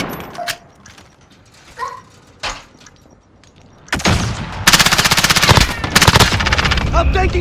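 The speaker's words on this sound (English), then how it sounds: "I'm taking fire!" Gunfire in Call of Duty Modern Warfare during a Demolition match: scattered single shots at first, then loud, rapid sustained machine-gun bursts close by, with game voices over it.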